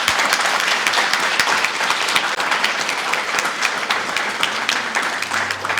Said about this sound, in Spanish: Una pausa para que les demos un aplauso a ellos y a ellas